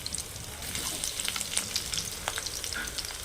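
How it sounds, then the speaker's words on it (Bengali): Chopped onions frying with crushed garlic and bay leaf in a pan: a continuous close crackling sizzle with stirring clatter and small pops throughout, no voices. "এইবার আমি এই পেঁয়াজটাকে ভালো করে ভেজে নেব"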